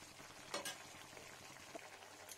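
Curry of bitter gourd, potato and tomato bubbling over medium heat in a pan, a steady soft simmering hiss with a couple of brief louder stirring scrapes, no voices.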